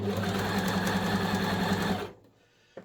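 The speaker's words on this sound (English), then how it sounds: "So I'm just going to stitch the back onto this fabric." A sewing machine runs steadily for about two seconds as it stitches the back onto a piece of fabric, then stops abruptly, followed by a small click.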